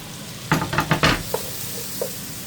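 Onion and garlic sauté in a pan for tuna pasta with a low continuous sizzle, while a spatula scrapes and knocks against the pan in a quick cluster of close, sharp stirring sounds followed by a couple of lighter taps.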